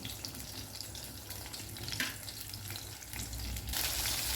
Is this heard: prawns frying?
yes